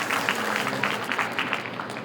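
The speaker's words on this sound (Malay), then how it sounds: "Tepukan yang tidak begitu bergemuruh" At a university convocation ceremony, the audience gives sustained, moderately loud applause, a steady dense patter of many hands clapping without speech.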